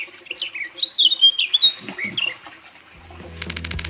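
Birds in China squawk and chirp in a rapid series of sharp, loud calls, followed by a rhythmic clicking pulse near the end, with no voices present.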